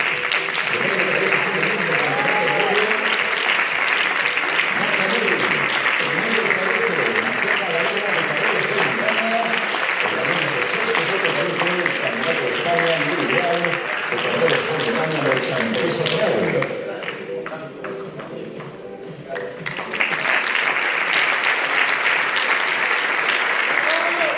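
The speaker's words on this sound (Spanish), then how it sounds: "Recibimos entón con un forte aplauso a Diego Ferreira Vázquez." Sustained applause from a gala audience at a mountaineering awards ceremony, loud and steady throughout with cheering voices mixed in, briefly easing before swelling again.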